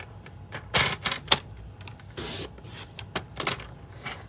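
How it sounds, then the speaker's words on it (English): Paper pieces for a lattice card being cut to 1 1/2 inches with a trimmer or blade, giving a few short, close scraping and clicking strokes separated by brief pauses, with no talking. "I'm going to take this piece that's left over, and I'm going to cut 2 more pieces 1 1/2 inches"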